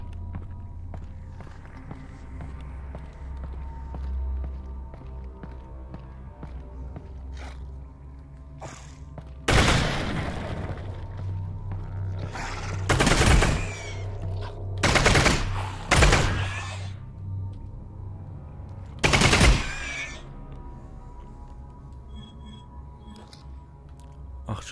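Gunfire in the video game Half-Life: Alyx comes in several loud, sharp bursts over about ten seconds, separated by quieter stretches with soft footsteps and low ambient hum.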